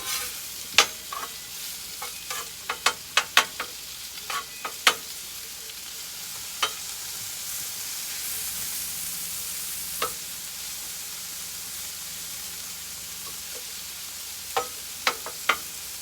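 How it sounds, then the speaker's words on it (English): Onions frying in a pan sizzle steadily while a utensil stirs them, giving scattered sharp scrapes and clicks, clustered early and again near the end, with no talking. "Let's give them a stir."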